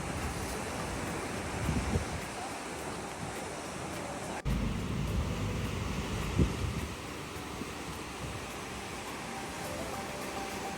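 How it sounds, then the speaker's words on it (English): Ocean water surges against the rocks at Watsons Bay in Sydney, a continuous rushing wash with gusts of wind buffeting the microphone and a louder surge midway through. "we got to see the water hitting the rocks"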